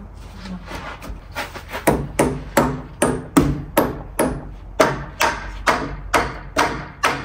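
Repeated hammer blows driving nails while building a wooden patio fence, about a dozen sharp, fairly close strikes landing in a steady rhythm.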